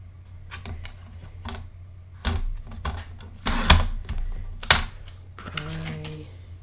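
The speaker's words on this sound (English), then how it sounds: "I'm gonna cut a 1-inch strip." Paper cutting for a summer market scrapbook mini album, a 1-inch strip of bright pink paper trimmed in several short, crisp, close clicks and slides, with a brief low squeak near the end and no talking.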